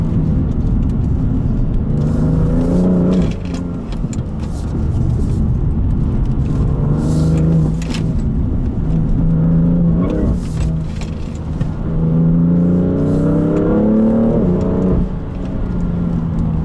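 BMW M3 Competition engine revving hard under acceleration, a loud rising and falling roar with repeated climbs in pitch as gears change, heard up close from inside the car with no talk.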